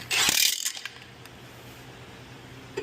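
A ratchet tightening a 14 mm nut on the ball joint of a 1998 Kawasaki Bayou 300 ATV, a quick burst of metallic clicking and rattling followed by faint ticks, close and without talk.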